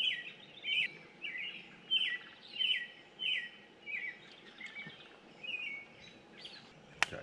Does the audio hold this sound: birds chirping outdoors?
yes